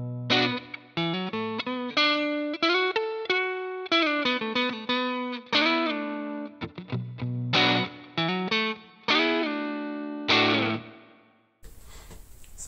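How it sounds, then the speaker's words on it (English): A Jazzmaster electric guitar on its neck pickup plays clean through an amp set near breakup, a sequence of plucked notes and short chordal phrases with clear gaps, close and alone. "First we'll start with clean tones. I'm going neck, middle, bridge"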